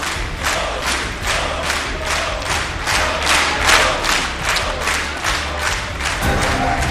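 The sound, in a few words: applause in the Israeli parliament for the Prime Minister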